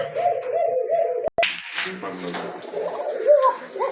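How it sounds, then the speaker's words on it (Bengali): A pair of Coca pigeons coo repeatedly in a low, rolling rhythm, close by, with a brief sharp knock partway through and some background noise from a pigeon market. "একজোড়া কোকা কবুতর দেখেন কত ডাকে"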